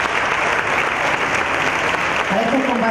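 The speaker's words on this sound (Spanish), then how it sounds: "el aplauso" Audience applause fills a public talk in Argentina, dense sustained clapping from a large crowd throughout, with some voices mixed in near the end.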